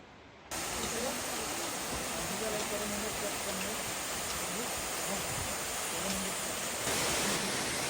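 A waterfall on the mountain trail to Tiger's Nest in Bhutan gives a loud, steady broadband rush that fills the whole stretch, with faint voices murmuring underneath.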